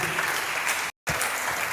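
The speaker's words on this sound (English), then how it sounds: "Please don't stop clapping, Dr. Oduniyi." Audience applauding a guest at a law faculty event, a steady wash of clapping from a crowd, briefly cut to silence midway and then resuming at the same level.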